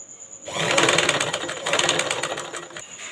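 An electric sewing machine stitches a blouse collar, starting abruptly after a brief pause and running in a fast, even mechanical whir with slight pulsing, close by.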